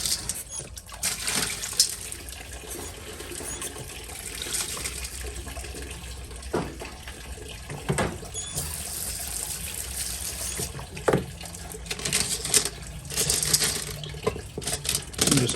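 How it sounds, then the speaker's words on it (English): Tap water runs into a sink while a bowl is washed, a continuous rushing splash broken by a few sharp clanks and knocks of the bowl, fairly close and without speech. "I forgot to wash the bowl."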